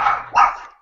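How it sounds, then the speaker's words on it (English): Dog barking indoors, two quick, loud barks in close succession, near and alone without talk. "What are you barking at your brother for?"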